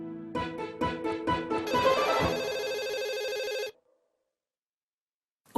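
A telephone bell rings in several quick bursts, then one sustained trill lasting about two seconds before cutting off into silence, loud and close with no talk over it.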